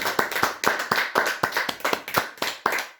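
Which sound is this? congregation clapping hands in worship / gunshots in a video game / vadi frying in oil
congregation clapping hands in worship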